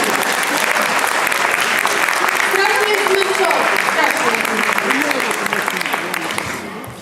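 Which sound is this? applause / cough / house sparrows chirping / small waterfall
applause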